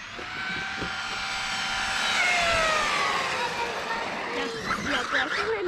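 A Traxxas E-Revo 2 RC car's stock electric motor whines at a high pitch and sputters unevenly, its tone wavering and cutting in and out, with a steady run of motor noise throughout.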